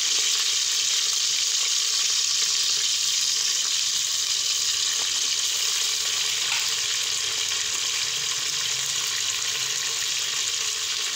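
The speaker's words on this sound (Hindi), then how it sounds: "लहसुन अदरक डालने से खुशबू इसकी अच्छी आना शुरू हो गई है, तो आप लोगों ने इसको अच्छे से भूनना है" Garlic and ginger fry in a pan for a kidney bean curry, giving a loud, unbroken hissing sizzle that holds steady throughout with no talking.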